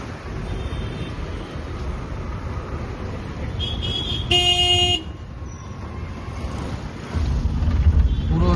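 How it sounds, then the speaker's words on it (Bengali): Road traffic jammed on a bridge at Sahapur, Malda, with steady engine and road rumble throughout and one loud, sustained horn honk partway through, followed by heavier nearby vehicle noise. "পুরো রাস্তায় জ্যাম লেগে আছে,"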